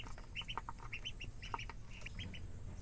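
Small ducklings peep in quick high chirps, with several short calls overlapping near a faint steady background hum and no talk.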